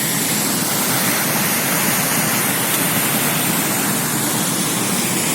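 A small woodland stream rushes in a steady, loud, broadband hiss of flowing water, close and unbroken from start to finish with no voices.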